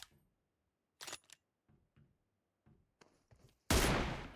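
Gunfire from the PUBG Mobile video game on an emulator: a few sharp shots spaced apart, then a loud broadband blast near the end that fades out, with no talking.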